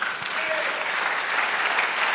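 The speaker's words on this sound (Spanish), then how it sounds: "Dale aplauso al Señor." A church congregation applauds together, a dense and even wash of many clapping hands at moderate volume, with no talking.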